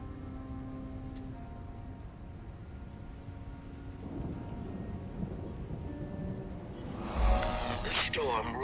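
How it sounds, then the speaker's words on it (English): Thunderstorm in the video game Guild Wars 2: steady rain hiss with low rolling thunder rumbles throughout, swelling into a louder, brighter burst near the end. "The storm roars on the horizon."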